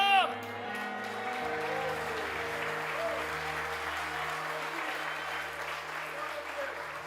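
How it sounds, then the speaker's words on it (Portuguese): Steady applause from a church congregation during a worship service, a continuous wash of clapping after a brief voice at the start. "Aplauda o Senhor."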